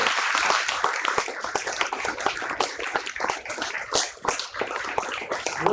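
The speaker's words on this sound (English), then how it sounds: "So let us applaud and celebrate the real treasure in this room" An audience at a book release function bursts into dense, sustained applause, many hands clapping at once in a continuous, lively roll with no voices on top.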